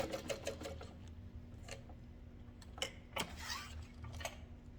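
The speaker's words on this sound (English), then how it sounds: "Backstitch a couple of times for that opening." A sewing machine backstitches a seam on a fabric wristlet clutch, running in short close bursts of rapid mechanical ticking with brief pauses between passes.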